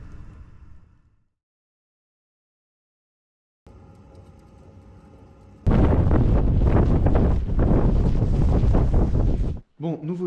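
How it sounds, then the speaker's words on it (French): Strong, cold wind buffeting outside a camper van in Iceland, heavy roaring gusts hitting the microphone after a quiet stretch, loud and continuous for several seconds before cutting out briefly. "Il y a encore beaucoup de vent, il fait très froid."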